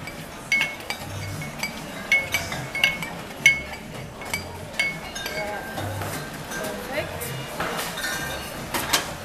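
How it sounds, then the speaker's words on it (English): Fresh cucumber being muddled for a tea-time cocktail, a run of close, uneven knocks and glassy clinks from the muddler striking the glass in an irregular rhythm. "We're going to get some fresh cucumber and muddled out."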